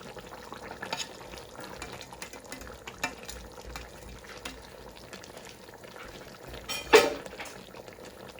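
Carrots go into a pot of simmering chicken stew with water, over a faint continuous bubbling, then a brief louder clatter as the pieces drop in.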